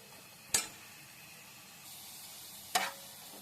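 A soft, steady sizzle of mint leaves frying in a pan for chutney, broken by two sharp clinks of a utensil against the pan, heard close with no talking.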